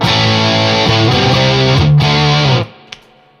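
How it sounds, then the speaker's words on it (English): Heavily distorted electric guitar chords through a distortion pedal ring out loud and sustained, shifting a few times before cutting off abruptly, followed by a brief click in near silence. "So there you go, 3 great distortion pedals."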